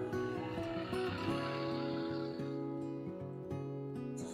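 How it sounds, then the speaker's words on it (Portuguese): A tractor drones steadily past a hillside farm in the Serra Gaúcha, its low, humming engine note holding throughout with slight shifts in pitch. "Que passa é trator."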